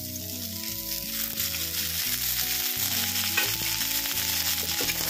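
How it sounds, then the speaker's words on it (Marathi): Onion and sliced chilies frying in oil in a pan, a steady loud sizzle running throughout with a continuous low musical drone beneath it. "आणि कांदा छानपैकी भाजून घ्यायचा, छान ब्राऊन होईल।"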